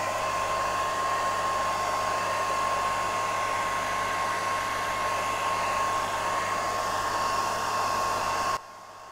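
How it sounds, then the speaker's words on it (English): A hair dryer blows steadily and loudly to speed-dry a watercolour painting, a constant roaring whoosh with a thin high whine that cuts off abruptly at the end. "So, right, let's mix up the shadow. Let's speed dry it first."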